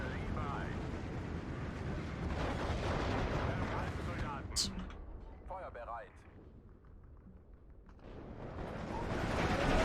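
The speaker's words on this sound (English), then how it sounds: "So much artillery coming down." Artillery barrage in a Steel Division 2 battle, dense rumbling booms and crackling fire layered continuously, swelling loud at the start and end with a quieter stretch in the middle, under occasional voices.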